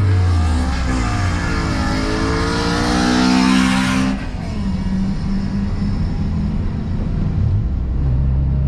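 A 1991 Honda Civic Si with its stock exhaust, revved hard close by: a rising, buzzy engine note climbing for a few seconds, then dropping back to a low, rumbling idle.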